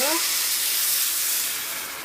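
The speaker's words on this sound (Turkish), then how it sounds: "suyumuzu ilave ediyoruz" Water is poured into a hot pot of bulgur pilaf seasoned with salt, chili flakes and thyme, setting off a loud rushing hiss of steam that slowly fades, with a brief voice at the very start.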